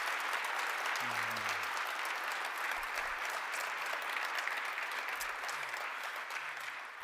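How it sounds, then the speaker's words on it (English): A crowd at a Mississauga walk-of-fame induction ceremony gives a sustained round of applause, steady and fairly faint, with a few brief low voices or sounds surfacing underneath. "Would you, for me, if you don't mind, just give another resounding round of applause for Jim Tovey?"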